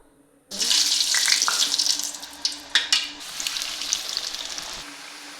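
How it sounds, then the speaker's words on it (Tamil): Murukku dropped into hot cooking oil gives a sudden loud, steady hiss and crackle that fills the whole stretch, swelling with a few sharp bursts before stopping abruptly. "இப்போ நாம் ரெடி பண்ண வச்சுருக்க முறுக்கை எடுத்து இதில் போட்டு பொரிச்சு எடுக்கலாம்"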